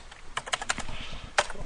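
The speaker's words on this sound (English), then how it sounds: "we're going to type in password Cisco 123" Keys clatter on a computer keyboard as a password is typed in, a quick irregular run of close, crisp taps with a louder cluster near the end, no talking.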